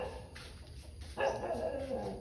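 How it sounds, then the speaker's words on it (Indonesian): A dog barks and yips near an abandoned old plantation hospital building, a few short bursts heard from a moderate distance in a quiet setting. "anjingnya gonggong terus loh ini."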